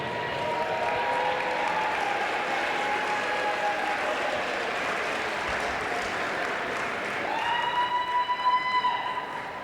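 Audience applause at a United Way campaign celebration in Atlanta: dense, steady clapping from a large crowd filling the whole stretch, with a brief high tonal whine rising near the end.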